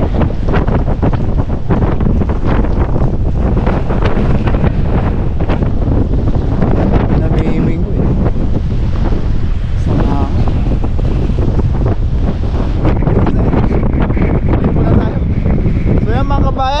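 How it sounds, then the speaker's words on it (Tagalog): Strong, steady wind roars against the microphone throughout, a loud continuous rumble with a voice talking intermittently underneath. "Sobrang lakas ng hangin at ang lamig na."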